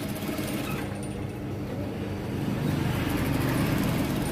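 A sewing machine stitching an underarm fold runs steadily as a dense, continuous motor hum and rattle, close and fairly loud, with no talk.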